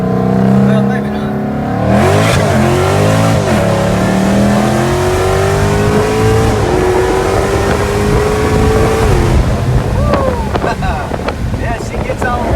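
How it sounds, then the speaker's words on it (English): Whipple-supercharged Dodge Scat Pack making about 700 wheel horsepower, launching hard on slick tires with spinning wheels; a loud, close engine roar climbs in pitch through the gears, with wind buffeting the microphone. "Spinning on Yeah, slicks. she was spinning on them slicks. Car sounds really good."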